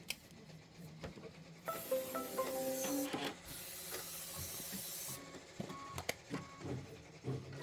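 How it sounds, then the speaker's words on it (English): A multi-needle embroidery machine stitches fabric for a quilt block, a steady mechanical whir with rapid repeating needle clatter and a brief hissing burst partway through, heard fairly close and alone without talk. "my multi-needle is stitching away"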